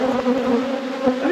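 Bees swarm close around a camera at an opened hive after winter, a dense steady buzzing drone that stays loud and continuous throughout.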